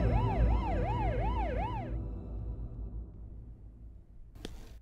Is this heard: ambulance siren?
yes